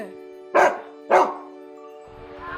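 A dog barks twice in quick succession, loud and close, over a faint steady hum.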